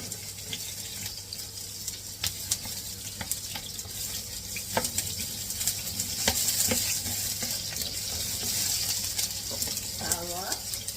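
Onion sautéing in a pan for pancit bato, with a continuous soft sizzle and frequent light taps and scrapes of a utensil stirring, heard close and fairly quiet, with a brief voice near the end.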